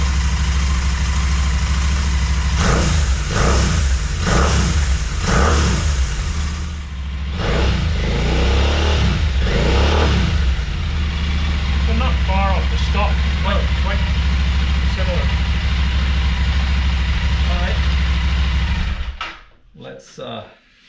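A Royal Enfield motorcycle fitted with a Red Rooster slip-on exhaust idles with a steady, deep, loud rumble that continues under ongoing talk, then cuts off abruptly near the end.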